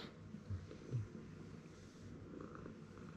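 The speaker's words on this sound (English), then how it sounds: "You hear her purring?" A cat purrs close by in a quiet room near a bed, a faint, low, rumbling purr with soft rhythmic pulses and no talk over it.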